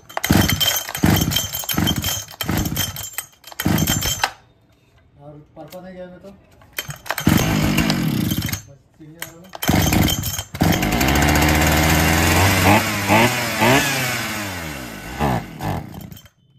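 A Falcon chainsaw engine with carburetor trouble, close and loud. It runs in choppy bursts, falls quiet, then sputters, revs up and bogs down unevenly, losing pickup under throttle before cutting out near the end.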